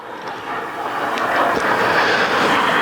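A Russian MiG-35 fighter jet roars at an airshow, its engines a broad steady rush that builds slightly over a couple of seconds, with no talk.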